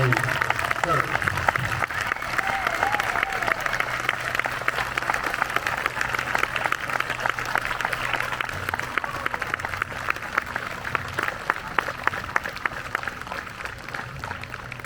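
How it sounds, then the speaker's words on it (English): Outdoor crowd at a Miamisburg Memorial Day ceremony and parade applauding the grand marshal, sustained scattered clapping at middling distance with faint voices mixed in. "I would just like for you to recognize our Grand Marshal today with a large round of applause, Mr. Wayne Kirk."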